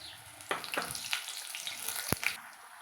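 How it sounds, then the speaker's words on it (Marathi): Chili fritters (mirchi bhaji) dipped in batter fry in hot oil, giving a steady close sizzle punctuated by a few sharp crackling pops. "मी दुसरीसुद्धा अशी मिरची घेत आहे आणि तसंच ह्या पिठामध्ये टाकून हे तेलामध्ये सोडत आहे"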